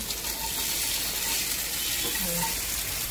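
Half-fried local fish sits in hot oil in a pan, giving a dense, even sizzle that holds loud and close for the whole stretch with no talk over it.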